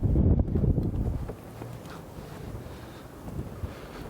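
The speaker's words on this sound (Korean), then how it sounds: "우와, 바람이 겨울이네요." Cold winter wind gusts across the large international port at Pyeongtaek, buffeting the microphone with a loud rumbling roar at first, then settling into a steady, softer blustery wash.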